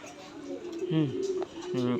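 Fancy pigeons at a pigeon farm, Ethiopian Murasal among them, give a few low rolling coos close by while a person talks over them.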